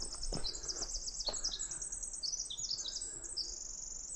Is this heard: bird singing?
yes